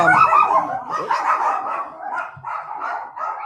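Several dogs bark and yip in a busy, overlapping chorus with a few howl-like notes, fairly close and continuous. No voices are heard.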